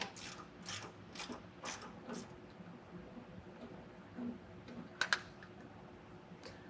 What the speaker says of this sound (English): now I'm using a 10mm socket, and I'm going to get this factory jounce bumper removed